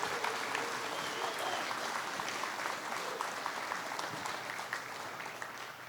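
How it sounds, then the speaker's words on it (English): A room of guests at a February 2020 DLP Capital investment dinner claps in a sustained, moderately distant round of applause, steady and even throughout with no voices on top. "let's give them a quick round of applause for putting"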